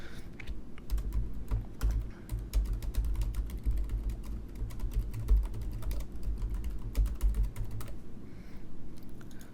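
Steady typing on a computer keyboard while a note is entered into a help-desk ticket, with quick close clicks in an even, continuous run and no voices.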